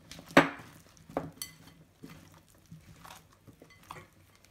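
Cauliflower is kneaded by hand in a bowl to coat it, giving a sharp knock followed by soft irregular squelches and taps, close and fairly quiet.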